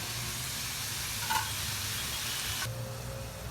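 Tomatoes sizzle steadily in a hot pan while being cooked down for tomato chutney, a continuous soft frying hiss with a brief stir partway through and the tone shifting slightly near the end.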